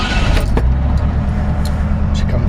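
A 1951 Ford F1 truck engine catches and settles into a steady, loud idle with a deep low rumble close by, with brief clicks over the top.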